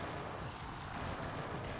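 A Zerg army storms an opponent's main base in a StarCraft free-for-all match, a dense, loud, continuous rumble of explosions and battle noise with no pauses and no talk.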